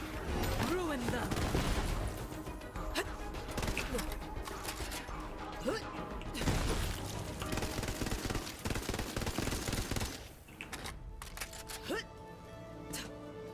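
Gunfire from Borderlands 3, including a corrosive semi-automatic weapon, crackles in dense, rapid bursts over a busy game mix with effects and voices, steady and loud for most of the stretch before briefly thinning.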